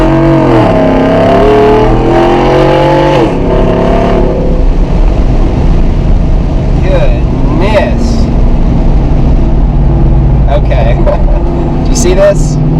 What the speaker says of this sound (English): hearing the exhaust, feeling the power, this thing had some get up and go